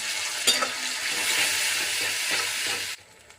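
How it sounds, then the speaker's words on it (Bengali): Ground spice paste frying with tomatoes in a pan for a Bengali pomfret curry, a steady close sizzle with a few scraping stirs, stopping abruptly near the end. "এবার আমি দিয়ে দিচ্ছি বেটে রাখা মশলা,"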